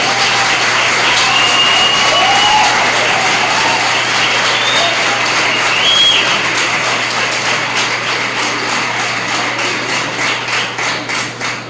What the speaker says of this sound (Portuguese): eu convido a todos para uma saudação através de palmas de boas-vindas